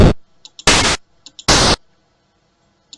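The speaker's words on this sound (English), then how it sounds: "An explosion." Two short retro game explosion effects, each a harsh burst of static-like noise lasting about a quarter second, separated by small ticking blips and followed by near silence.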